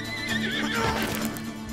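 Horse whinnies in Red Dead Online, a drawn-out neigh rising and falling over steady clip-clopping hooves, close and fairly loud with a light game soundscape behind it.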